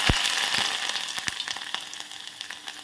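Chopped ginger sizzles in hot oil in a pan for a Kerala-style fish curry, a steady close frying hiss with a few sharp crackles and pops near the start, no voices.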